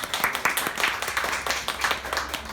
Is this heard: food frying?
no